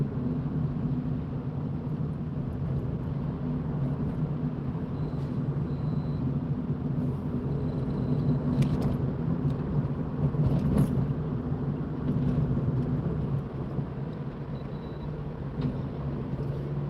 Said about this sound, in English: There's a huge amount of traffic on here